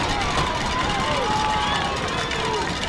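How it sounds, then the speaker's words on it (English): Continuous roar of a youth football crowd at a 12U championship game, a dense, steady wash of cheering and babble with no breaks across the whole moment. "Hear the roar of the Stampede crowd."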